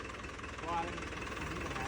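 A smooth, steady engine idles with a low, even rumble throughout, with faint voices in the background.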